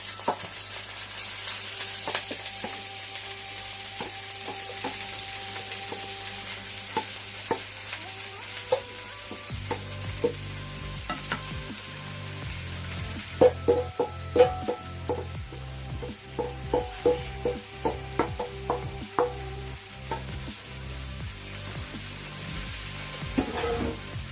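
Shrimp hits hot oil in a pot and stir-fries with a steady sizzle, joined partway through by repeated scraping and clattering of a utensil against the pot, with no voices.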